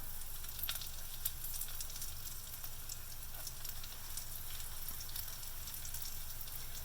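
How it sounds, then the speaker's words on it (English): Mustard seeds spluttering in hot oil with cumin seeds, torn curry leaves and asafoetida for a Kerala-style rasam, a continuous soft sizzle with faint crackles and pops throughout. "Let the mustard seeds splutter"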